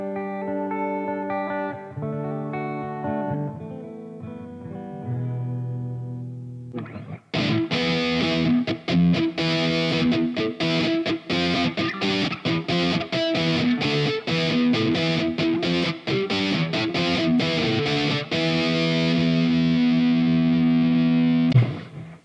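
Guitar played through a band-themed preset in the Tonebridge effects app. A few clean-toned notes open, then loud, dense distorted chord strumming runs steadily to the end, close and alone.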